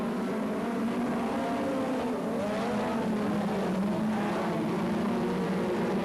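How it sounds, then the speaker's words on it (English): USAC midget race cars racing at night on an oval track, a dense continuous engine roar from several cars at once, loud and unbroken, with pitch sweeping up and down as they pass. "Terrific USAC Midget racing here tonight."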